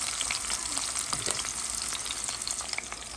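Finely chopped garlic frying in hot oil: a dense, continuous crackling sizzle, close and fairly loud, with a few faint stirring scrapes mixed in.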